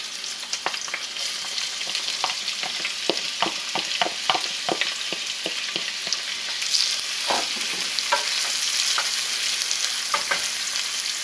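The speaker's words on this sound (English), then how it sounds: "Alright, got the olive oil warmed up. I'm going to add the onions." Onions sautéing in warmed olive oil give a steady close sizzle with scattered crackles and pops throughout, a louder hiss of frying swelling in the second half.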